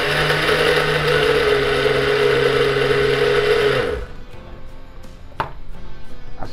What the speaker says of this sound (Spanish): Ahora en la licuadora simplemente vamos a poner no mucha cantidad de carne, sino que la vamos a ir moliendo de a poco